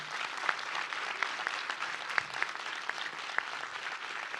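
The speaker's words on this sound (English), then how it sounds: "join me in a round of applause for all of the candidates here tonight" Audience at a spring presidential and vice presidential student debate applauds the candidates, steady dense clapping from a crowd at moderate volume, with a few sharper individual claps standing out.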